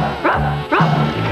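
A dog gives two loud, close barks, each a short yelping bow-wow, spaced about half a second apart with a brief whimpering tail.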